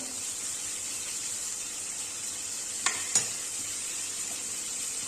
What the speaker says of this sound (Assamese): আমি জুইটো সামান্য বঢ়াই দি পেলাই বিলাহীখিনি ভাজি ল'ম।